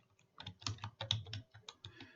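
Close computer keyboard typing, a quick irregular burst of a dozen or so light key clicks over about two seconds, quiet and alone.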